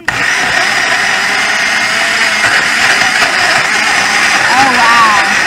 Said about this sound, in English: you take all those things and you put them in a blender and you go